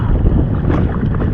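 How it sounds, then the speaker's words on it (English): Wind blows hard at sea off the coast of Vietnam, rushing and buffeting loudly against the microphone in a dense, continuous roar. "And the wind keeps blowing me."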